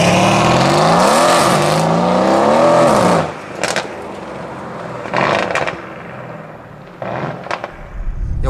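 Mercedes C63 AMG being driven, its engine roaring loudly under hard acceleration with rising and falling pitch for several seconds, then lifting off into quieter bursts of revs and crackles, no talk.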